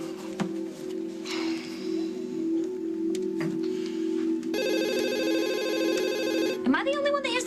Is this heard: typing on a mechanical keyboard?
no